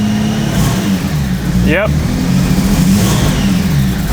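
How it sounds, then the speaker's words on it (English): Loud engine of a Toyota Land Cruiser with a suspected bad throttle position sensor, running throughout with a low steady drone and uneven revving, someone speaking briefly over it. "I'm pretty sure if we turn the car on and rev it"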